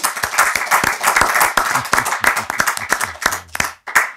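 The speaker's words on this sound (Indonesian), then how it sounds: "Tepuk tangan buat Fahri Ali" A studio audience at an Indonesian talk show greets a guest with steady, lively clapping, many hands beating in a dense rapid patter close by, fading briefly near the end.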